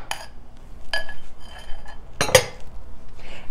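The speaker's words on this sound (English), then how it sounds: "And then we're gonna mix this all up really well" A utensil clinks and scrapes against a bowl while granola bar ingredients are stirred into oats, with a few sharp knocks among quieter scraping, close and alone.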